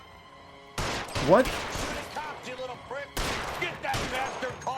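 Gunfire in the crime video game L.A. Noire, a burst of rapid shots followed by further scattered firing, loud and close, with a voice speaking briefly over it.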